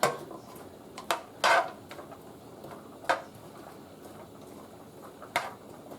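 A heavy metal spoon works mashed potatoes in a pot, giving a few sharp scattered clanks and scrapes against the metal over a low steady background.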